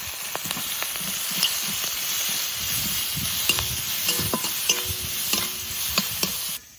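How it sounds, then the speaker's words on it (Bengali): Cumin seeds, chopped onion and slit green chilies frying in a little oil for a fish-oil dish, a continuous crackling sizzle with repeated stirring scrapes and small clinks of a spatula against the pan, no voices. "তেল দিয়ে একটু জিরে দিয়ে পেঁয়াজ লঙ্কা একটু নাড়াচাড়া দিয়ে নিলাম।"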